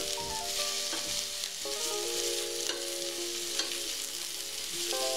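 Onions frying in a pan on medium heat, a steady soft sizzle throughout with faint stirring scrapes, close up and with no talk.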